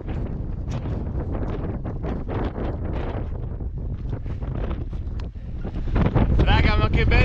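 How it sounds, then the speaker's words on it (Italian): Strong mountain wind buffets the microphone in a continuous roar that swells near the end, when a voice briefly speaks. "Madonna che vento."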